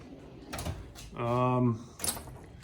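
A top drawer of a tool chest, holding impact sockets, slides open with a smooth metallic rolling rattle lasting about half a second, preceded and followed by softer clicks and handling knocks, close and fairly clear.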